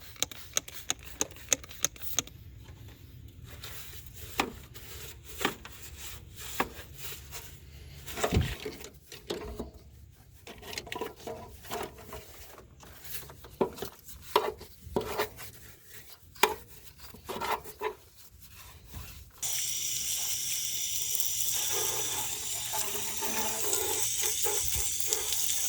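Engine bay of a Jeep XJ being scrubbed with Purple Power degreaser: steady close brushing and rubbing strokes with small taps, then a continuous hissing wash of spray or water toward the end.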